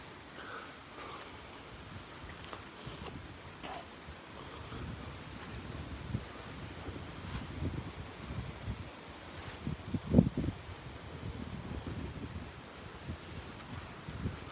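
Gusty wind blows outdoors on a morning walk in the UK, giving a low, rumbling, uneven buffeting against the microphone that swells and fades, with a brief louder thump partway through.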